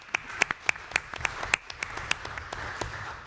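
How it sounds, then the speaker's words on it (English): A small group at a roundtable gives a round of applause, sparse and fairly quiet, with a few crisp claps standing out over a light background of scattered clapping. "I think that's actually worth a round of applause to everybody here."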